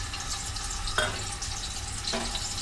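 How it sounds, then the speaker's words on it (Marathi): Eggs fry in a pan of hot oil with a steady, moderate sizzle, and two brief scraping stirs of a spatula cut through near the middle and end of the short stretch; no one speaks. "आणि हे अंडे आपण याच्यामध्ये व्यवस्थित फ्राय करून घेऊ।"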